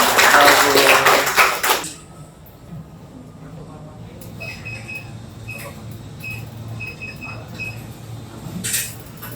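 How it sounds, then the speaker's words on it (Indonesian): Students applaud at a school visit by a regional inspectorate at a junior high school in South Tangerang, a dense burst of hand clapping lasting about two seconds, then a quieter room with scattered voices. "Tepuk tangan."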